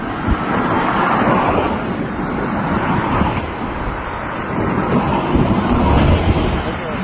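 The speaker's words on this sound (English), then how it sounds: "That's got to be the eastbound shop train maybe." A freight train with hopper cars rumbles past close by near the Queensboro Bridge, a continuous heavy roar of wheels and cars rolling on the rails without pause.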